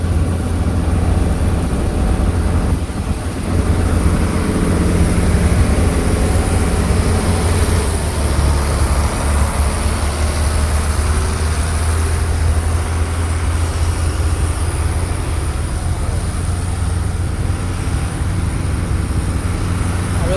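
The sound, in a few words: ferry ghat trawler boat engine passing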